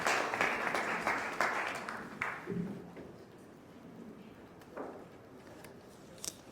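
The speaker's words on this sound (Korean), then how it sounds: "큰 박수로 맞아주시기 바랍니다." Applause from an audience at a business forum that starts out strong, then thins and fades to scattered claps in a large room.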